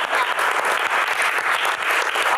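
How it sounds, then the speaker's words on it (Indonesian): Dense, steady audience applause at a live Q&A show, many hands clapping together at full volume for the whole stretch with no voices on top. "Tepuk tangan."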